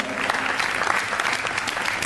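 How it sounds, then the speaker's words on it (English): An audience at a 2016 youth entrepreneurship club expo in Joliet, Illinois, gives a round of applause. The clapping is steady, dense and moderately loud, with no voices on top. "we'll give her a round of applause"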